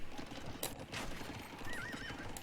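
A horse cart moving in a strategy video game, with a horse's whinny, clip-clopping hooves and rolling movement, moderately loud and close, with no talk over it.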